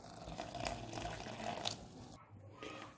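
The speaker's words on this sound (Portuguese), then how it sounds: "E vou usar água quente." Hot water pouring and splashing into a bowl of tapioca dough, a soft, fairly quiet liquid trickle that runs for a few seconds and briefly drops away near the end.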